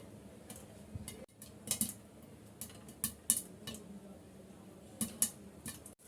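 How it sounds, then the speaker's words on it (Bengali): Popcorn kernels popping inside a covered pot, scattered sharp ticks and small clattering pops against the lid, irregular and fairly faint, a few close clusters among quieter gaps. "দেখেন এগুলো ফুটতে শুরু করেছে আমি এখন ঢেকে দিচ্ছি"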